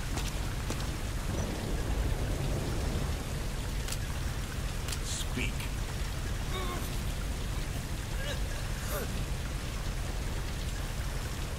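Steady rain pours across a video game's outdoor night scene in Metal Gear Solid V: Ground Zeroes, a constant broadband hiss with occasional drip-like accents, while someone talks intermittently over it.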